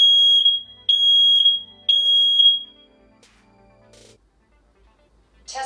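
Nest Protect smoke alarm running a smoke test, giving three loud, shrill beeps in a steady rhythm, each about a second long, then quieter faint tones trailing off.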